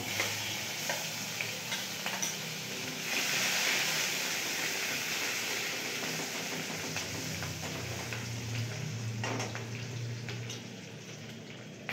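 Garlic paste sizzles softly in a pan of hot oil while it is stirred for prawn biryani, with a steady, gentle frying hiss throughout and occasional scraping.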